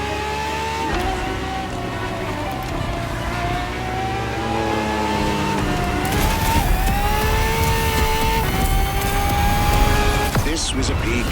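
The engine of a Ferrari FXX-K in The Crew Motorfest revs hard and climbs through several gear changes in loud rising sweeps, with a narrator speaking over it.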